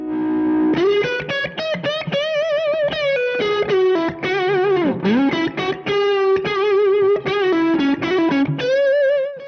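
An electric guitar played through an Origin Effects RevivalDRIVE Compact overdrive pedal rings out loud and up close, with sustained driven notes, bends and quick picked phrases.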